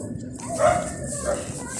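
A dog gives a short bark and a whimpering yip up close, partly under excited voices talking nearby.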